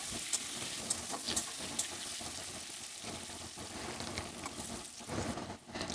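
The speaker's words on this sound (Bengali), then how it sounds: "এইভাবে 5 থেকে 7 মিনিট আমরা আলুটাকে নেড়ে চেড়ে ভেজে নেব" Potatoes stir-fry in oil in a wok, a faint, steady sizzle and crackle with soft scraping stirs and a few brighter clinks, no talking.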